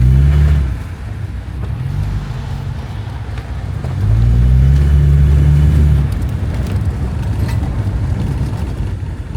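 A Volvo car at a Finnish Volvo club gathering, its engine idling low then revving twice in strong, close bursts before settling back to a rumbling idle.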